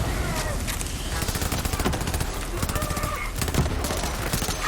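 A Night Hawkin SMG in the video game Borderlands 3 fires in rapid sustained bursts, a dense stream of sharp crackling shots with explosive impacts layered over game noise, continuous and loud throughout.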